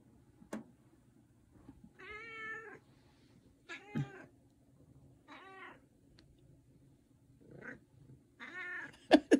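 A cat meowing insistently for eggs indoors, about six separate drawn-out meows spaced a second or two apart, close and clear with no talk.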